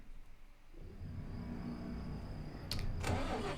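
A Renault truck in Euro Truck Simulator 2 cranks and fires up, a low engine rumble building into a steady idle, with a brief sharp click and mechanical clatter near the end.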